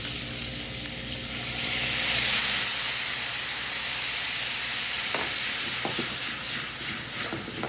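Shrimp with ginger and soy sizzles in a hot pan, a steady bright hiss that swells and eases slightly, with a few soft clicks of stirring near the end.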